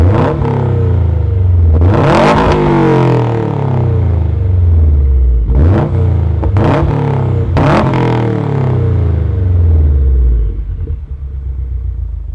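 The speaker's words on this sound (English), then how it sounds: "this is an Invidia catted downpipe mated to a Invidia Q300 catback exhaust" Subaru STI fitted with an Invidia catted hi-flow downpipe and Invidia Q300 catback exhaust, idling with a loud burbling rumble and then revved hard, one long rise followed by three quick sharp blips before settling back to idle.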